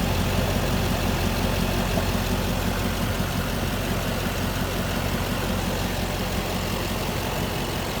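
Steady idle of a 2007 Chevrolet 15-passenger minibus with a 6.6-liter Duramax diesel, a constant low rumble with even clatter, close and unchanging throughout with no talk.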